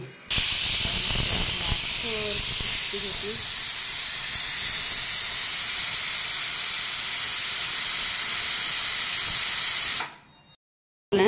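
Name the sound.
pressure cooker hissing steam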